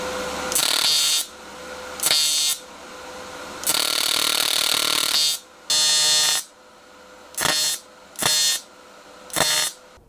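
Welding on thin aluminum inside an Audi interior: repeated loud buzzing arc bursts of one to two seconds, separated by short silences, growing shorter and choppier toward the end.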